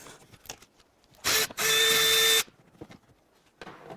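Tight bolts on an Escalade are loosened with a power tool, two loud close bursts of whirring impact drive, one brief and one about a second long, with soft clinks and handling noises around them.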